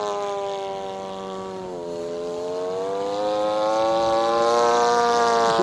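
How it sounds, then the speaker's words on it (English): An Extra Utility Maxi Lift 88-inch radio-controlled airplane in flight, its engine a steady droning whine that rises and falls in pitch as it passes at a distance, alone with no talk. "This is a nice flying plane."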